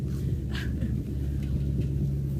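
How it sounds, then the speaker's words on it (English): Steady low rumble of heavy truck traffic passing near a garden, a constant engine drone with no talking. "Trucks move."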